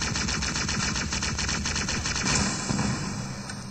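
Rapid automatic gunfire rattles continuously in the Halo video game, a dense stream of shots with echoing tails and no speech over it.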